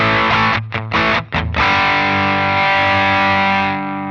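Electric guitar through a high-gain MXR Sugar Drive overdrive pedal, a few choppy strums then a thick distorted chord ringing out and slowly fading, no speech.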